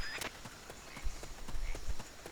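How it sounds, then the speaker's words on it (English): Footsteps in Metal Gear Solid: Peace Walker: a steady run of soft, evenly spaced thuds, about ten quick steps over two seconds, moderately close, with no talk over them. "I just heard footsteps."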